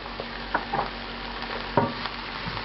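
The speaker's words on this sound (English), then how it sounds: "we're going to put just saute briefly the onions and the garlic to try to pick up the residue off the bottom" Onions and garlic sauté in the pan where lamb was just browned, a soft steady sizzle broken by a few scraping stirs, close and fairly quiet, no talking.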